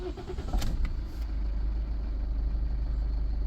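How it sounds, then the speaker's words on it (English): A Toyota with a semi-automatic MMT transmission fires up: a short starter crank and catch, then the engine settles into a steady, low idle hum that continues to the end. "I'm pushing the brake and start the engine."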